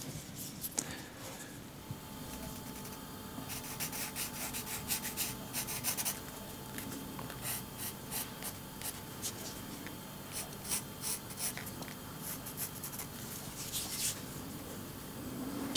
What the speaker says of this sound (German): Ich zeichne mir die Mittelachse ein, ringsherum, und dann die Linien, die den Bohrungen folgen